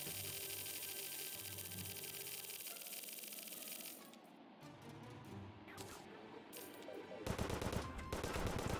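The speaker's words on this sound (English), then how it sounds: "Gun." Rapid automatic gunfire from a Terraria game plays in dense, fast bursts. It is loud at first, drops briefly, then returns in heavier volleys near the end.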